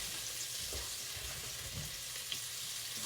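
Diced onion sautés in a soup pot with a soft, steady sizzle and occasional low stirring scrapes, fairly quiet and continuous with no voices.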